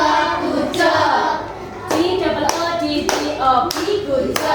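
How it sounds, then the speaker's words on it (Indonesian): Group clapping in a school coaching session, with close, loud, rhythmic claps in several sharp bursts. Voices chant and speak between the claps. "Tepuk tangan dulu untuk kelompok 2"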